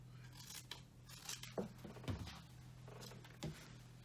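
Scissors snip through paper along a drawn line, a few short crisp cuts and rustles at close range over a low steady hum, with no talk.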